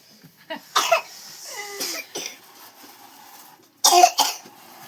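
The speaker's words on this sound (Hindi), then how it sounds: "सच में खांसी हो गई है दादी जी आपको तो।" Several short, dry coughs from an elderly woman come in bursts with quiet gaps between, close by, with a faint voice in the background.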